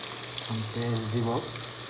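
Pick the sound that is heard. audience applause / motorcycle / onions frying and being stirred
onions frying and being stirred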